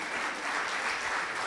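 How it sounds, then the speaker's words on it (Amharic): Church congregation applauding, a steady, dense wash of many hands clapping together, loud and continuous throughout with no break. "ለራሳችሁ አጨብጭቡ"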